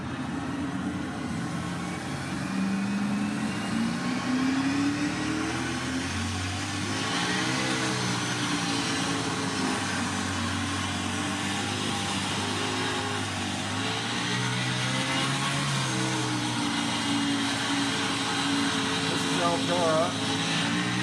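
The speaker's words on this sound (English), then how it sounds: "Okay, I'm in a World of Outlaw sprint car now. I'm gonna pull out, do a couple laps here for you." A World of Outlaws sprint car engine roars through laps at Eldora in a racing simulator, a continuous rising and falling drone with shifting pitch, while a person talks over it throughout.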